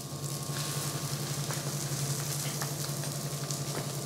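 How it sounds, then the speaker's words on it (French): An egg cooks on a buckwheat galette in a hot crêpe pan with a continuous close sizzle and crackle, over a faint steady hum. "On laisse cuire l'œuf."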